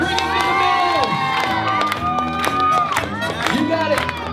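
Guests at a bar mitzvah reception cheer, shout and clap loudly together, children's voices whooping over the crowd noise and music, with speech mixed in.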